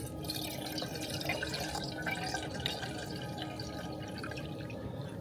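Water trickles and splashes into a camping kettle, a soft continuous pour with small drips, fairly quiet and close.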